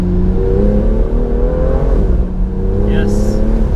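A 2018 BMW M2 engine thrums loudly up close with a steady droning note that dips and rises as the car is driven. Faint higher crackles near the end may be overrun bangs.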